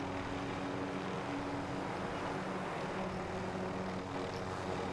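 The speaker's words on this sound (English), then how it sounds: "I just landed in there on the helicopter, stole it, and left." A helicopter in a video game flies with a constant droning engine and rotor roar, loud and unbroken, with no talk over it.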